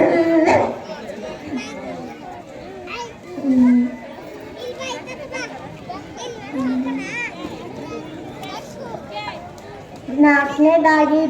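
A child at a school talent show imitates a dog with a few short barking bursts. The sounds rise over steady background chatter of many children.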